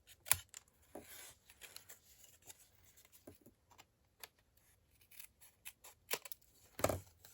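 Scissors snip through a paper journal pocket, a series of faint, close, irregular cuts with short crisp blade closures and quiet rustling between them.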